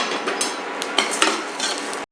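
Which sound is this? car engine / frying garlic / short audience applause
frying garlic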